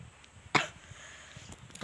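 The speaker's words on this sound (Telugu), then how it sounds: "దగ్గత్తాంది తర్వాత మాట." A single sharp cough from a person with a cough, close to the mic, standing out briefly against a quiet room with no talking.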